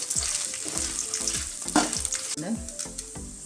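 Whole spices such as ginger, cloves, cardamom and pepper fry in hot oil in a pan for a chicken and potato curry, a loud, continuous close sizzle broken by repeated rhythmic spoon scrapes and clinks, with no talking.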